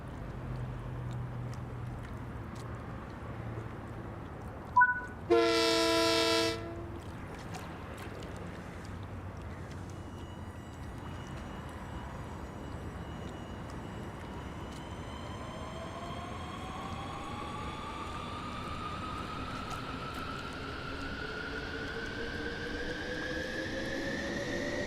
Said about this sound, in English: We'll stay down here while our train departs